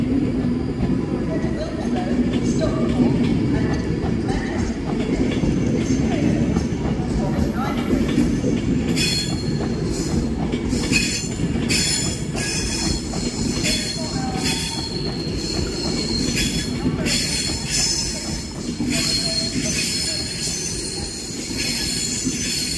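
An Avanti West Coast Class 390 passenger train rolls through Crewe station with a steady heavy rumble, wheel squeal and rail clatter throughout. A voice speaks faintly under the noise.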